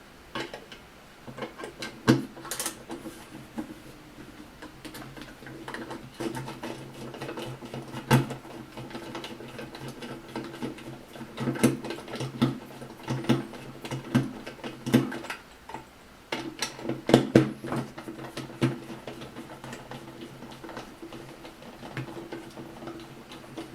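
A crosshead screwdriver backs out two screws from the cover of an Intex 638R pool filter pump, making faint, scattered ticks and clicks over a quiet background.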